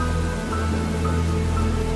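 Steady, dense rain falls throughout a dark jungle night, a constant close hiss of drops layered over a low droning hum with no break.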